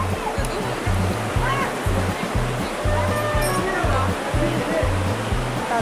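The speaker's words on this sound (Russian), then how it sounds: "У подножия течет красавица река Алха, горная речка, очень холодная." The cold mountain river Alkha flows below a climbing rock, a dense, steady rush of water that stays constant throughout. A regular low pulsing hum and faint voices sit under it.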